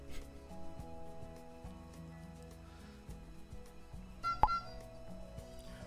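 A mobile phone sounds a short run of electronic beeps that peaks into one sharp, loud tone near the end, over a steady bed of background music.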